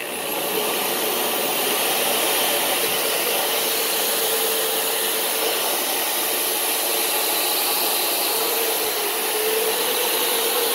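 A buffing wheel machine whirring steadily while a knife edge is polished and sharpened against it, a loud, continuous broadband hiss with no pauses or talk.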